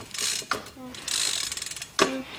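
A loose chain and sprocket on a Mongoose bike rattle and click in quick mechanical bursts, close by and moderately loud, with no talking.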